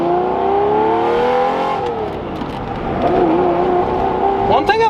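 An older V12 supercar engine revs hard and holds a loud, steady roar, pitch sliding down and then climbing again as it accelerates.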